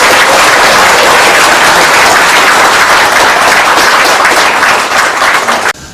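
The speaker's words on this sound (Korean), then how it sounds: "예비 후보님께 다시 한번 큰 박수 드립니다" A large crowd applauds a presidential candidate at a policy announcement in Jeonbuk, a loud, dense, continuous roar of clapping that holds steady before cutting off abruptly at the end.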